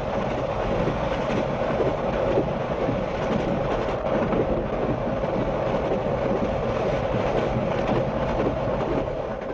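A train pulled by the Flying Scotsman steam locomotive rumbles steadily along the rails with continuous rolling clatter and a dense, constant roar throughout, no voices.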